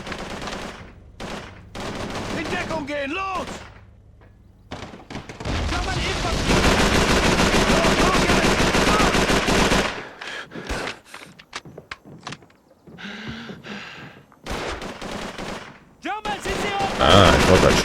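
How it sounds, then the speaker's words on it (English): Gunfire in Call of Duty 3 on PS2 during an SAS mission, with bursts of automatic fire and single shots, a long sustained stretch of heavy shooting, then sporadic cracks and blasts between short pauses. "I thought that shot came from over here"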